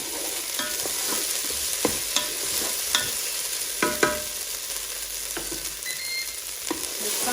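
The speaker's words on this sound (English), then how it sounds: "once you've sauteed your onion, added in some garlic" Onion and garlic sauté in a Ninja Foodi pressure cooker, a steady broadband sizzle with a few sharp stirring scrapes and taps spaced through it, close and moderately loud, no voices.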